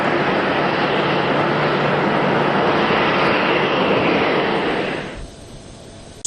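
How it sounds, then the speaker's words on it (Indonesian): Fighter jets escort a presidential aircraft in flight over Jordan, giving a loud, steady, broad jet roar that holds for several seconds and then drops away sharply near the end. "Pesawat tempur mengawal kedatangan pesawat Presiden Prabowo Subianto di langit Yordania."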